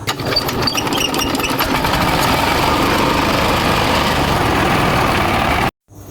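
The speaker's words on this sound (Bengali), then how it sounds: "ট্রেলার স্টার্ট করে আমার গন্তব্যর উদ্দেশ্যে রওনা হলাম" A tractor trailer's engine running close by, a loud, steady mechanical drone with rattling higher tones, holding constant until it cuts off abruptly at the end.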